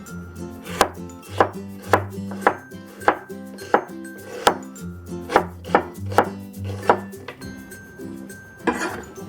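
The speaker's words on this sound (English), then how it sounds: "Next, we're going to slice the yellow onion." A knife slices a yellow onion on a cutting board, about a dozen sharp, evenly spaced chopping knocks close up, with faint clinks between strokes and no voices.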